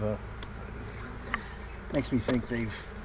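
Honey bees buzz around an open hive, a faint steady drone with individual insects passing close, while someone speaks quietly over it.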